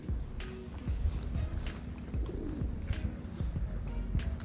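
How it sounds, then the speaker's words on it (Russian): Pigeons cooing softly nearby, a few low throaty coos amid scattered clicks, shuffling and faint outdoor background noise. "Голуби где? Голуби? Где голуби?"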